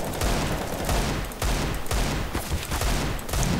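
Bursts of rapid gunfire in the shooter CS:GO, repeated loud automatic volleys separated by short pauses, close and with no voices.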